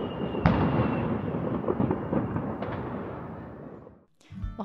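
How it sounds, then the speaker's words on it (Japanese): Fireworks going off all around a neighbourhood on New Year's Eve, a continuous roar of overlapping bangs and crackles with sharp nearby reports standing out, fading toward the end before a burst of louder popping. "いろんなところで一斉に上がる花火だったので、なんかもう 轟音みたいな音があって"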